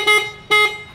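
An electric Honda Zoomer e-bike sounds its horn twice in quick succession, two short, loud, buzzy beeps about half a second apart, heard up close.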